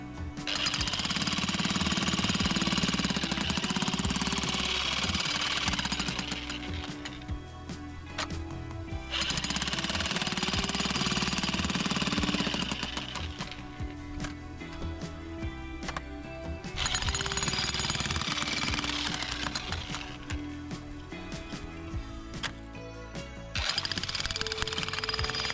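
A jackhammer breaks ground to dig footing holes for a container house foundation, pounding loud and close in long continuous bursts separated by brief pauses.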